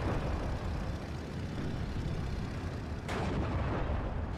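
An aircraft strafing with 20mm cannons in Steel Division 2, a low engine drone under rumbling gunfire and distant battlefield booms, with a sharp burst of cannon fire near the end.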